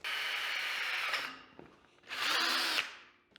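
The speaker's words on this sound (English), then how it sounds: "I can't get my drill an inch down without getting that weird angle." A Milwaukee power drill fitted with a big drill bit whines loudly and close by in two strong bursts with a short pause between them, inside an abandoned backyard fallout shelter.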